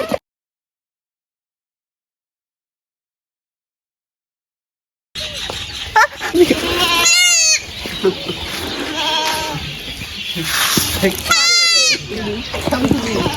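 A baby goat held in someone's arms on an Eid outing in a village bleats twice in wavering cries, close by, amid outdoor chatter and voices after a few seconds of silence.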